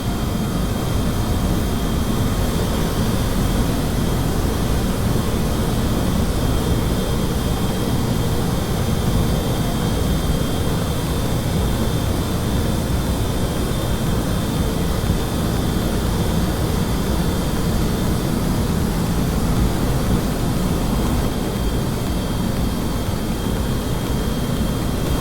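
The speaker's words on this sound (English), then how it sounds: "Whiplashes are in runaway. Ramjets are on." Supersonic jet and ramjet engines in Kerbal Space Program roar as a steady, dense rumble with a thin high whine running through it, loud and unbroken for the whole stretch with no talk.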